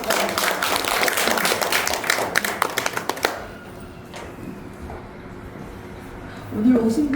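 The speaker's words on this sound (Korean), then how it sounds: "뜨겁게 스스로를 향해서 박수 쳐주십니다" Audience at a Daejeon local-history society book launch applauds for about three seconds, a dense burst of clapping that stops abruptly, followed by room quiet and a speaker starting to talk.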